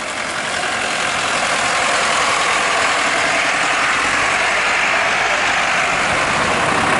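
A military go-anywhere vehicle with a 160 engine idles at a steam fair parade arena, a steady loud broadband rumble holding throughout with no talk.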